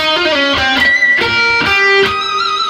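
Electric guitar phrase from a solo, a few sustained bent notes with squealing pinch harmonics that pop out, played slowly, close and clear with no talking.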